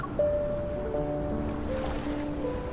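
Sea waves wash gently onto a beach in the game Love and Deepspace, a steady soft surf under faint tonal game music.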